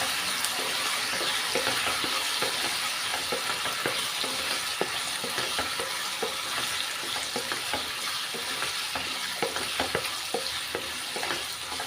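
A snack mixture with tomato sauce is stirred and fried in a pan, giving a steady close sizzle broken by frequent scraping and clicking strokes of a spoon against the pan throughout.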